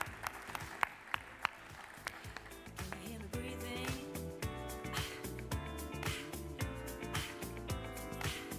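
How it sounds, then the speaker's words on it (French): Audience applause for bar staff at a conference afternoon session: dense, sustained clapping from a large crowd with a few sharp louder claps near the start, continuing steadily throughout. "On applaudit bien fort les salariés du bar."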